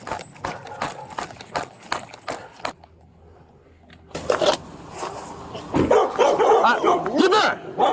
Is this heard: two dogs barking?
yes